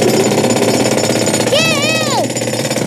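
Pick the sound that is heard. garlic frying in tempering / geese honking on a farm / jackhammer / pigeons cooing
jackhammer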